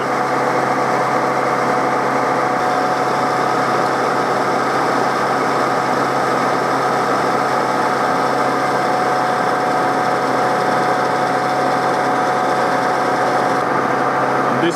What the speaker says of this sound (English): now let's machine this end